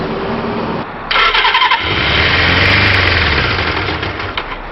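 A 1978 Suzuki motorcycle engine is sprayed with starter fluid into the carb. The starter cranks in a quick rhythmic churn, then the engine catches into a loud, rough, sputtering run close by before it fades and falters.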